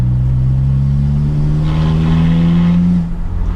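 VW Bora with a PD diesel engine making 320 Nm of torque, running a straight-pipe, cut-up exhaust, revs with a deep steady drone and a rising throttle blip midway, loud and close, no talk over it.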